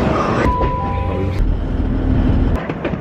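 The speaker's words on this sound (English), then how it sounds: "This is London Bridge train station." Busy indoor ambience at London Bridge train station: a steady roar of crowd murmur and rail noise, with brief clicks and a faint tonal beep.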